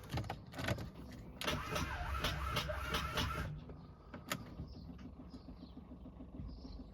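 A Range Rover van engine cranked over with the ignition key, a loud burst of starter whine and engine noise that drops back after a few seconds to a steady low idle with small clicks.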